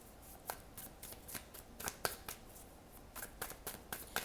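Tarot cards are shuffled close by in a fairly quiet room, a run of soft, irregular slaps and riffling flicks with no voice over them.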